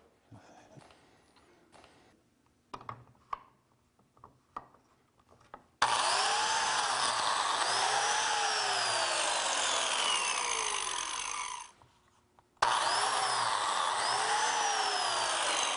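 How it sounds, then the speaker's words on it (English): Biscuit joiner cutting slots into wooden cabinet side panels clamped to a workbench: two loud, sustained whining cuts of several seconds each, separated by a short pause, after quieter handling clicks and taps. "so that I can observe my pencil mark and that my biscuit joiner is in alignment with it"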